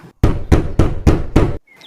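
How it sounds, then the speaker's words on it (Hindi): Five firm, evenly spaced knocks on a wooden door, loud and close, ringing out alone with brief silence before and after. "दरवाजे पर दस्तक होती है।"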